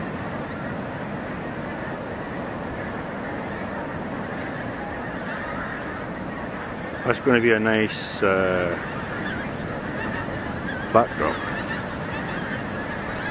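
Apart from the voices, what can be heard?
flock of birds calling as they fly north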